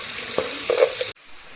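Onion and garlic fry in a pan with a lively sizzle, a few scraping stirs cutting through, before the sound stops abruptly near the end.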